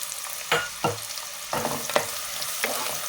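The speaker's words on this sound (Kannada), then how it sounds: "ಇದಕ್ಕೆ ಸಣ್ಣ ಕಟ್ ಮಾಡ್ಕೊಂಡಿರ್ತಕ್ಕಂಥ ಈರುಳ್ಳಿನ ಒಂದು 3/4 ಕಪ್ ಈರುಳ್ಳಿನ ಹಾಕ್ತಾ ಇದ್ದೀನಿ" Finely chopped onion frying in a pan for palak chicken gravy sizzles steadily, broken by several sharp spatula scrapes and stirs at close range.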